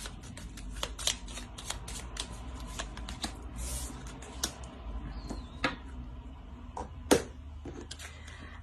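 Tarot cards shuffled and drawn, a run of quick, crisp riffling snaps and soft slides close up, with a few sharper flicks as single cards are pulled.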